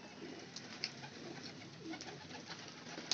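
A Teddy pigeon coos softly and repeatedly in a quiet space, its low rolling calls fairly faint against light background noise.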